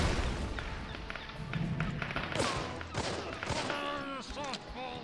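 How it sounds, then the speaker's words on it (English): Grenade blasts in the Super Trench Attack video game, a dense run of thumps and booms with gunfire-like crackle, loud and close, with a voice briefly over the end. "I gotta stop hitting the grenade button there"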